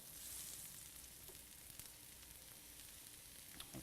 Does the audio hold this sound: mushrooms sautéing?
yes